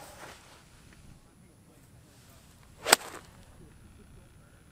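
A golf club, a 6 iron, swings and strikes the ball on an outdoor course: a single sharp swish-and-crack stands out from quiet wind noise.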